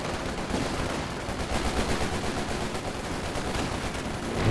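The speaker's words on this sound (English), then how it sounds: "Look at those Brens, just roasting these Falkstreeters." Bren light machine guns firing in the video game Company of Heroes 2, a steady, dense stream of overlapping gunfire bursts with battlefield noise throughout.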